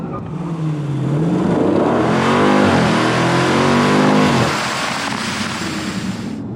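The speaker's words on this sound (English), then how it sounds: "I'm going to give it full throttle. As the RPMs come up, I'm going to take my foot off the brake and we're going to take off" A 2015 Dodge Challenger Scat Pack Shaker revs hard and launches at full throttle, its loud engine note climbing through the gears in rising sweeps before easing off near the end.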